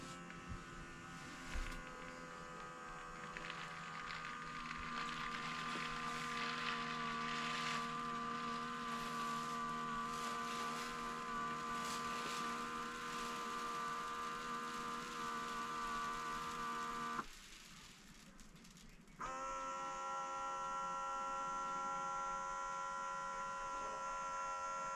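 Motor of a PetPivot Autoscooper 11 self-cleaning litter box running a leveling cycle, a steady close mechanical whir with a whining tone, briefly cutting out near the end before resuming.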